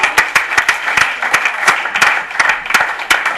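Audience applause in a room, fairly loud and close, individual sharp claps standing out in an uneven rhythm from a modest group, with no voices over it.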